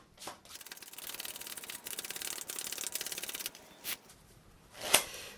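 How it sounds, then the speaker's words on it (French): A new deck of playing cards being shuffled French-style, a rapid riffling patter of flicking cards in bursts, then sharp taps as the deck is squared, close and quiet with no voices. "Maintenant, on va refaire une série de mélanges à la française."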